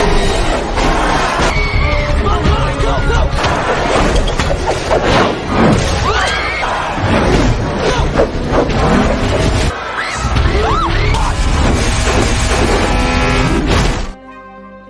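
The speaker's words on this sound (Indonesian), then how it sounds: "salah satu mobil mengalami ledakan dan menghantam bangku penonton" A car explodes and crashes into the spectator stands at a racetrack in a film scene, a dense, loud, continuous barrage of smashing, banging and crunching impacts that cuts off abruptly near the end.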